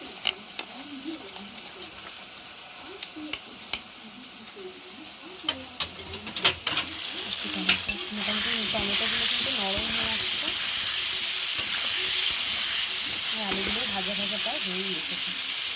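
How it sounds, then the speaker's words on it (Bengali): Ground spice paste and ginger paste stirred and mixed in a bowl while preparing an egg and masoor dal dish: soft wet scraping and sloshing strokes. They start faint and grow louder and steadier, with no voice. "এবার এটাকে গুলে নেবো মশলাটা ভালো করে"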